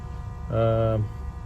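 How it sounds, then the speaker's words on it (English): An electric cooling fan in the engine bay of a 2012 Suzuki SX4 with alternator failure, on a cold day, gives a steady tonal whine that swells for about half a second over a low idle hum. "The whine you're actually hearing is from the cooling fan from the Modus."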